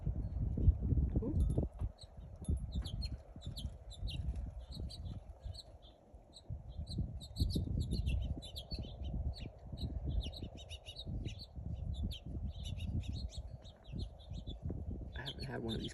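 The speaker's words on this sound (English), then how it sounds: "looks like a male and female finch" Male and female finches at a peanut cake feeder give repeated high, quick chirps in scattered bursts, fairly faint under steady low wind rumble and a voice.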